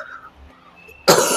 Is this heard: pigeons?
no